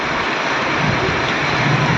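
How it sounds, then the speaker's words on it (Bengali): Heavy rain pours down steadily in Kolkata, a dense, loud, continuous hiss with a low rumble underneath and no talking. "জোরে জোরে বৃষ্টি এসে গেছে"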